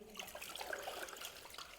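Faint splashing and trickling water as a suit is rinsed by hand in clean water, with soft continuous sloshing and no talking.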